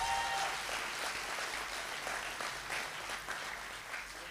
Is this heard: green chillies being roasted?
no